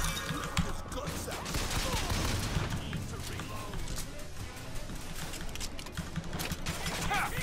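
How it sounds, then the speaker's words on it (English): Bursts of gunfire crackle through the Bioshock Infinite video game, dense and continuous over busy in-game noise with running footsteps and clatter, the volume staying steadily loud throughout. "More shooting at me?"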